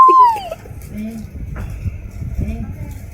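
Cartoonish clucking and gobbling from a giant chicken in the Roblox game Grow a Garden, a few close, fowl-like calls over game sounds while a voice talks throughout.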